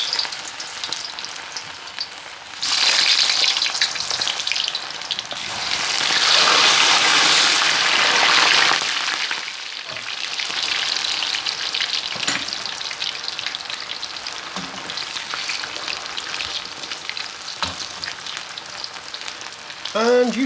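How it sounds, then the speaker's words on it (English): Cassava chips dropped into hot oil, setting off a loud, steady sizzle and bubbling fry that swells after a few seconds and then settles into a continuous crackle, with no talking. "So that oil's nicely heated now. Let's add our cassava chips."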